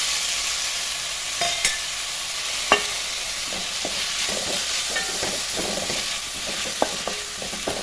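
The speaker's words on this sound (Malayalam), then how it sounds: "തക്കാളി ചേർത്തട്ടെ രണ്ട് തക്കാളിയൊക്കെ" Tomatoes go into a frying masala of garam masala, chicken masala and turmeric, giving a steady close sizzle with repeated scraping and stirring clicks from a spoon, and no talking.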